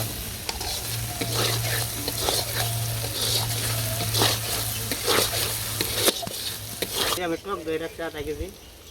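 Spice paste for a fish curry sizzles and gets stirred in a pan, with a steady frying hiss and scraping strokes close by, a village kitchen setting; a voice speaks briefly near the end.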